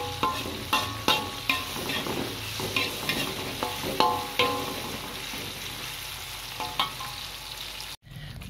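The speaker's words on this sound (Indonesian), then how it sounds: "Goreng cabai bawang, tomat, ini juga ada terasinya tuh. Kita lagi goreng" Chili, shallots, tomato and shrimp paste sizzle in hot oil while a utensil stirs and scrapes the pan in repeated knocks, with a steady close frying hiss running underneath before a brief cut near the end.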